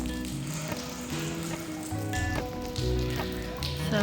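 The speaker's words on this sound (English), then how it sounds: "So it is raining again" Steady rain falls outdoors, a continuous broadband hiss of drops that lasts the whole stretch, with tonal ringing sounds layered over it.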